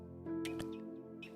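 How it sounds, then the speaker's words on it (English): A bird chirps outside beyond an open door, a few short faint chirps over a steady indoor hum. "there's a bird chirping away outside"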